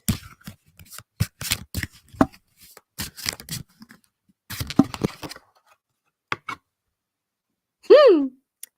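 Several bursts of cards being shuffled, crisp rapid riffles separated by pauses, close and clear, with a brief higher-pitched sound near the end.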